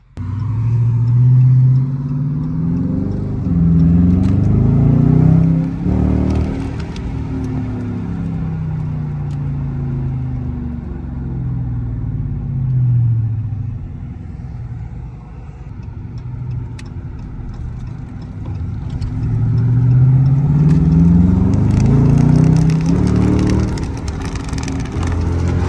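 A Dodge Charger R/T engine roars loud and close in traffic, its pitch climbing and falling through several hard revs with rumbling stretches in between, and no voices over it.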